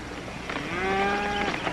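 A single cow from a cattle herd gives one long, drawn-out moo, fairly close and clear against a faint background, with no talking.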